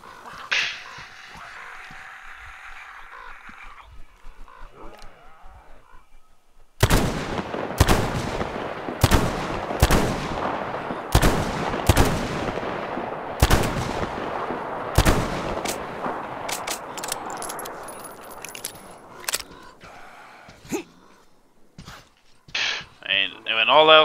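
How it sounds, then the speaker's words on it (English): Shotgun blasts in the video game Metro Exodus, a rapid volley of about eight loud, sharp booms with ringing decay, followed by scattered fainter shots and clanks; someone speaks near the start and end. "All else fails, the shotgun prevails."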